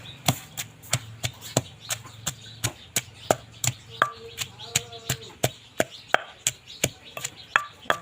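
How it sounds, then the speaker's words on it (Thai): Shallots are pounded in a mortar with sharp, regular pestle strikes repeating about twice a second, loud and close, with a faint voice in the background. "เฮาก็จะมาใส่หัวหอมลงไปตำก็ต้องต ำแหลกเด้อเพื่อนๆ"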